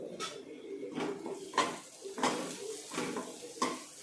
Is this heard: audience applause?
no